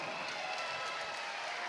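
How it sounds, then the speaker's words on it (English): A crowd at a professional boxing card applauds after a bout, a continuous, even wash of many hands clapping, heard somewhat distant and soft with no voices over it. "And a round of applause, please, for Michael Badato"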